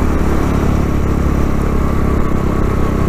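A motorcycle engine brakes while slowing toward traffic lights, a loud, steady close-up engine drone with road rumble that holds without pauses.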